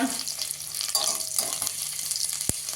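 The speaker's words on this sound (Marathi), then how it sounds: "कांदा थोडासा परतून घ्यायचा आहे आपल्याला" Sliced ginger, garlic and onion sauté in oil in a pan, with a steady close sizzle and a few soft stirring scrapes, plus one sharp clink near the end; nobody speaks.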